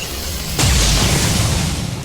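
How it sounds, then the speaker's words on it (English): A pistol shot in the XCOM strategy game, a single loud, sharp boom that hits suddenly after a quieter lead-in and fades slowly into a rumbling tail. "Draw his pistol and take a shot."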